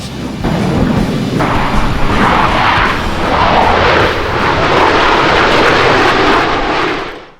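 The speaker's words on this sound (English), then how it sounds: "this was the first show for the Blue Angels to debut both the F/A-18 Super Hornet and C-130J Super Hercules" Loud, sustained jet roar from Blue Angels F/A-18 Super Hornet and C-130J Super Hercules aircraft at an airshow, a continuous powerful rumble and whoosh that holds steady for several seconds before tapering off at the end.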